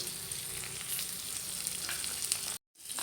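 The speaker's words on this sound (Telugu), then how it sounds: "కొంచెం కారం మంచిగా కలుపుకోవాలి మొత్తం కొంచెం మిక్స్ అయ్యేలా కలుపుకొని" Sprouted chickpeas with turmeric, salt and chili powder sizzling and being stirred in a pan, a soft steady crackle with scraping, broken by a brief silent gap near the end.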